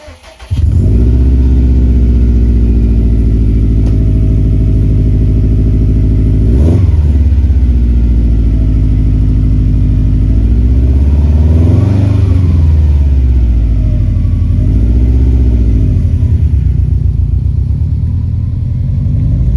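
Subaru WRX fitted with a Grimmspeed up-pipe, catted downpipe and Perrin cat-back exhaust, tuned on 93 octane, idling loud and close, then revving up and falling back in a couple of swells.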